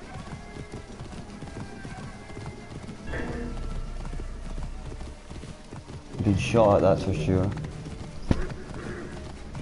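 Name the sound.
horse hooves galloping in video game Assassin's Creed Origins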